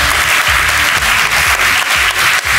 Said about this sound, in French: Des applaudissements pour vous deux!